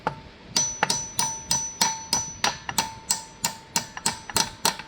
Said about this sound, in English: rather than trying to use my pliers as a hammer, I grabbed my hammer because it looks like it's pretty well lined up